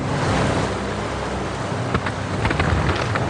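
Violent floodwater roars from an overflowing dam reservoir, a loud, dense, unbroken rush with churning splashes and wind-like hiss throughout.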